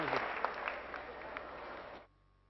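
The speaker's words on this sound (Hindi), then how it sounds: "एक बार जोरदार तालियां दें।" An audience applauds a speaker in a hall, a steady spread of clapping heard somewhat distant and faint for about two seconds before it cuts off abruptly.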